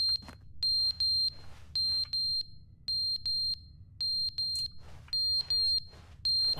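Smoke alarm in the video game The Stanley Parable sounding in repeated sharp, high double and triple beeps with short gaps, loud and clear over a low steady hum.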